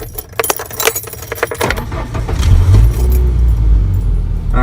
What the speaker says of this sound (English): Alright, now you started the car.